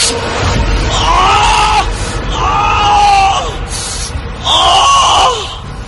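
A man screams in pain in a horror audio drama, three long, strained cries separated by short gasping pauses, loud and close, rising and falling in pitch.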